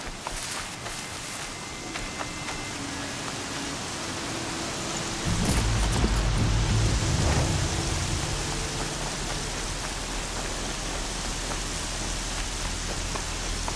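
Rain falls in the video game Horizon Zero Dawn, a dense, steady hiss of downpour that swells louder for a few seconds midway, then settles back to a constant wash.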